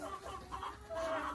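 Laying hens cluck in a steady, close chorus of short calls, with a slightly louder stretch of clucking near the end and no talking.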